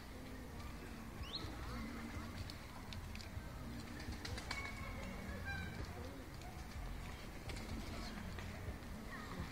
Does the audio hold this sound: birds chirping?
yes